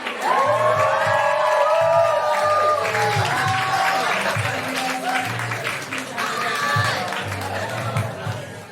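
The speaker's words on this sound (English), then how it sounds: "So please clap, whoop and cheer." A comedy club audience in Soho claps, whoops and cheers loudly and steadily, with shrill whistles and shouts rising over sustained applause.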